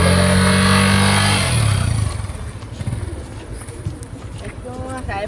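Motorcycle engine idling close by, a loud steady drone for about two seconds that then drops away, followed by people talking over quieter background noise.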